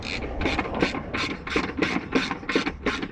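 A ratchet loosens a bumper bolt on a BMW Z3 roadster, making about eight evenly spaced rasping clicks in quick rhythmic succession, close and distinct, with no talking.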